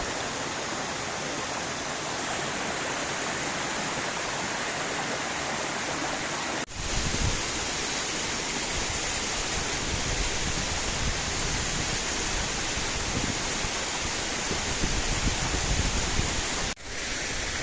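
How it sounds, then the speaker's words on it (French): A waterfall and a mountain torrent rush down along the Grandval cascades trail in the Cantal, a loud, steady broadband roar heard up close with no pauses and no voices. "Après il y a le torrent qui dévale."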